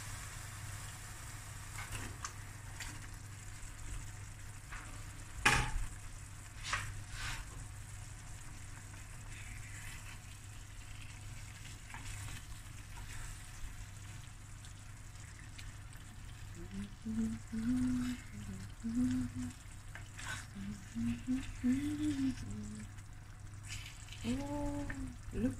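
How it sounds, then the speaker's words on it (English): Hake and snoek pieces simmering in a curry gravy give a low, steady bubbling sizzle that runs the whole way through, with a sharp clatter early on and a few brief squeaky noises near the end. "Now I'm going to add my hake and my snoek pieces."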